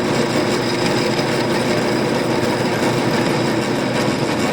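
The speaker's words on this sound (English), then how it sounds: "Let's go drill it." A power drill bores a hole through zinc-coated metal, giving a loud, continuous grinding whir that holds steady without pause.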